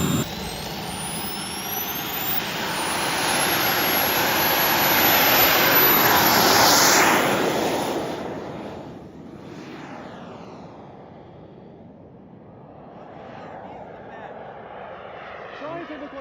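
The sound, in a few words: turbine-powered RC aircraft jet engine running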